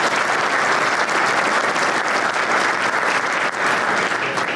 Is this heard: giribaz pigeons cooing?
no